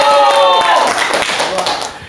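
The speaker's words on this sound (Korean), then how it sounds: "박수 한번 쳐주세요" A senior audience at a Korean comedy and recreation show claps briefly, with light quick hand claps mixed under a loud voice that trails off into the clapping.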